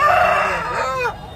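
A rooster at a poultry market in Nellore gives a single loud, close crow that rises and then trails off over about a second.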